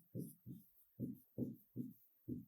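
Chalk or marker writing on a classroom board during a children's science lesson, six short scratchy strokes in a steady rhythm, close and fairly quiet, with no talk.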